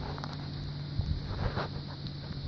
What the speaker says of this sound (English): The wind has really kicked in.